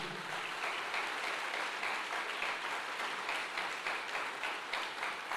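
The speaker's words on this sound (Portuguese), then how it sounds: "Se é com você, então aplauda o Senhor." A congregation claps for the Lord during a church service, a full, sustained wave of applause lasting several seconds, loud and even, with no speech on top.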